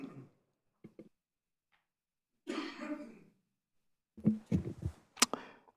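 A few short, isolated coughs and throat-clearing bursts separated by silence during a city council meeting, close to the microphone, with no talking.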